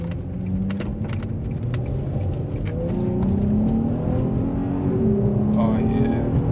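A 2004 Infiniti G35 engine with a newly installed Stillen Z tube revving close by, a deep rumbling idle rising in repeated throttle blips, with people talking over it.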